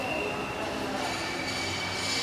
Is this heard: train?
yes